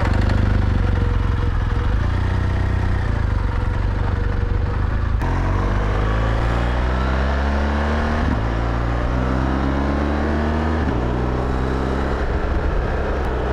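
A motorcycle on Michelin Anakee Wild 50/50 off-road tires rides along with a loud, steady engine drone that shifts through rising and falling revs as it accelerates and changes gears, close and continuous with no talking.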